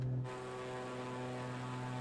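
A propeller-driven tail-dragger airplane drones with an even, buzzing engine note, faint and steady throughout the short stretch, with no voices.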